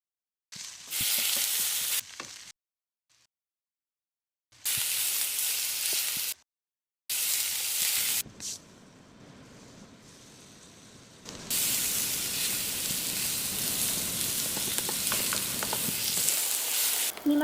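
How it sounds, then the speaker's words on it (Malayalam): Fish roe fries in hot oil in a pan, loud close sizzling and spitting in several bursts broken by short silences, then a long steady sizzle with stirring. "നമുക്കിത് വറുത്ത് ചോറിക്കൂട്ടി തിന്നാം."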